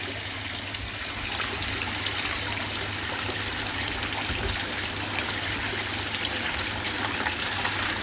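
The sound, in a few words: water flowing through a gold cube prospecting sluice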